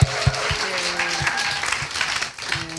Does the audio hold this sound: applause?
yes